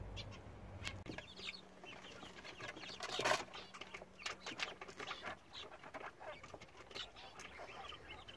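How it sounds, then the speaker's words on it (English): Small silkie chicks on a smallholding giving soft, scattered clucks and peeps, faint and intermittent against quiet outdoor rustling. "Here are our little surprise chicks"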